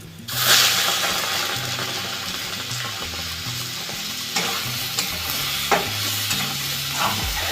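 Tomatoes dropped into fully fried onions in a pan, making a loud, continuous sizzle with occasional stirring scrapes and clinks and no talk.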